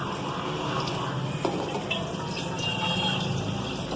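Water trickling and splashing as it drains from soaked soybeans, a steady wet pouring sound with occasional clinks, fairly close.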